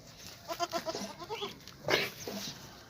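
A goat from another state, penned at a livestock dealer's, gives a quick series of wavering bleats, then a louder, longer cry and a short final call, fairly close in a quiet setting.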